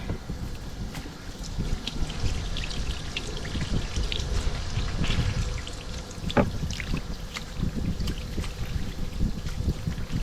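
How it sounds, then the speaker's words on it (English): Water rinses over a cleaned black drum fish, a steady, close splashing and trickling with no talk. "I'm gonna rinse this a little bit."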